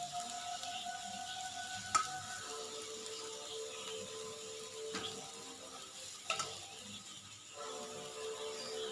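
Egg mixture for a roadside-style bread omelette fries on a pan with a faint, steady sizzle, broken by a few sharp clicks and knocks.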